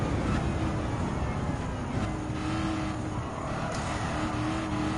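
A supercharged American muscle car of over 400 horsepower with a 5-speed gearbox races in Gran Turismo 7, its engine droning steadily at a high pitch, loud and continuous with faint passing cars.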